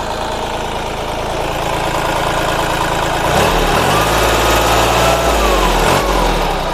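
A diesel engine of a used Kubota L3608 tractor idles steadily and loudly up close, a constant rumbling drone that deepens slightly and roughens midway through, with no talk.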